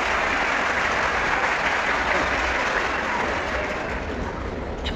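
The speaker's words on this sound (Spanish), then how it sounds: "No, insisto, aplausos primero" Sustained applause from an audience at a debate between a Catholic priest and a Protestant pastor, a dense, even roar of clapping that stays loud and steady throughout.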